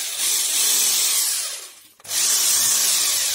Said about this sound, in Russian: шуруповерт исправлен.